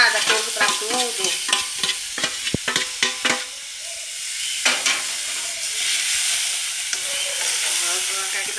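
A garlic seasoning paste with cumin and curry fries in a pan, a steady hiss and sizzle under quick clattering stirs of a spoon, the strokes busy at first and then giving way to a continuous crackle.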